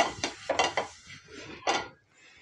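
A metal cooking pan set down and handled on a kitchen stove while preparing a rice-flour dish, several sharp clanks and scrapes in quick succession, then a final knock, close and clear with no talk.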